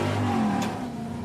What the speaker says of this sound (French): C'est toujours le ronflement rageur du petit moteur de 5 litres qui séduit avant tout la clientèle